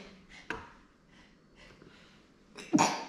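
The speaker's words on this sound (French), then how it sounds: "Attendez, je vais éternuer." A single sharp sneeze bursts out near the end, preceded by quiet breathing and a small catch of breath.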